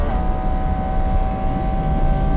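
A Porsche GT4 RS at full throttle on a race track's back straight nearing 156 mph, with a loud, sustained high-revving engine drone and a steady tone under heavy wind roar, continuous and close.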